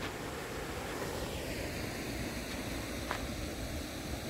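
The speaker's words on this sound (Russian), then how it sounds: "Вот, шум воды успокаивает," Flowing water in a park at the Belvedere in Vienna on a warm autumn day, a steady, even rushing hiss that continues throughout at moderate level.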